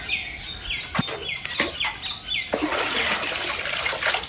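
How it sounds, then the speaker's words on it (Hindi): Water being drawn from a village well in Jharkhand, with splashing and trickling bursts over a steady outdoor wash of noise, birds chirping around it. "यहाँ पर मैया पानी भर रही है।"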